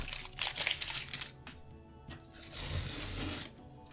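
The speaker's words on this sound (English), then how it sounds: "I think it'd be easier if I took the tape off now" Masking tape peeling away from the paper edges of a watercolour painting, a dry crinkling and tearing rustle in two quiet stretches with a short lull between, close and soft with no talking.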